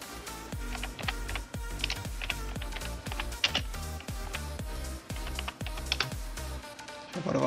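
Rapid clicking of keys on a computer keyboard, a steady run of close, crisp taps with brief pauses, alone without talk.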